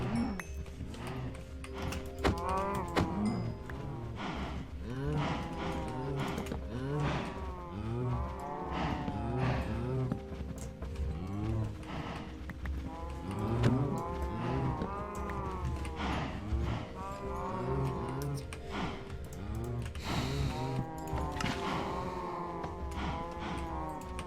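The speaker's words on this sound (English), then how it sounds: "I'm gonna kill all these cows in a bit." Cows moo repeatedly in a Minecraft survival world, with drawn-out bovine calls recurring at irregular intervals over a steady background hum, some near and some farther off.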